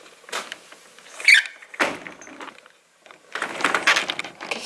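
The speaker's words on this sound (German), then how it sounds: "Wie geht diese Tür auf?" A door being worked open, heard as a few scattered knocks, rattles and squeaky movements of the door with short pauses, followed by a longer rustling, scraping stretch.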